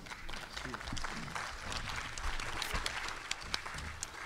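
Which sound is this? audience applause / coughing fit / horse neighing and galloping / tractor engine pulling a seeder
audience applause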